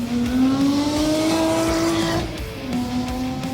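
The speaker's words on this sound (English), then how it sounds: "we get to watch this nice scene of him driving this red Ferrari to the charity event" A red Ferrari being driven fast in a movie scene, its engine note climbing steadily through a gear, then dropping and rising again, loud and close with no voices.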